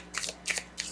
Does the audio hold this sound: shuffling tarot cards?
yes